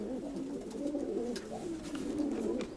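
Pigeons coo softly and repeatedly in low, rolling phrases, fairly faint, with a few small background noises.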